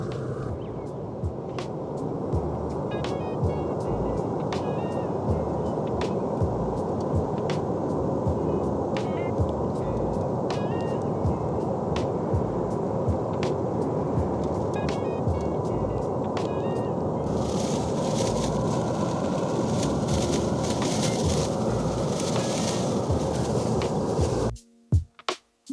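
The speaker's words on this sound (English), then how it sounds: "I'm gonna go turn the blower on all the way" A professional dryer vent cleaning blower runs at full power on a clogged dryer vent in Austin, Texas, giving a loud, continuous roar whose tone brightens partway through before cutting off abruptly at the end.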